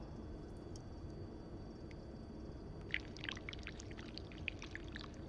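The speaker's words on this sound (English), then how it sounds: "First step, pour the wax, I suppose? Careful though, the pot's probably hot." Wax poured into a hot pot in the game This Bed We Made gives a soft, steady liquid trickle over a quiet background hiss, with faint crackly splashes building toward the end.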